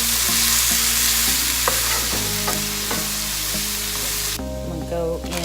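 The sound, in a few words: garlic frying and being stirred in a pan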